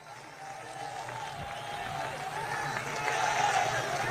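A political rally crowd in Madhya Pradesh applauds, a steady wash of clapping that builds and grows louder toward the end.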